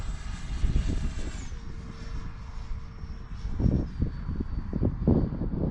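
A Freewing F-16 V3 RC jet in arctic camo flies overhead, its electric ducted-fan whine steady then shifting in pitch as it passes at moderate distance, with wind rumble underneath and no talking.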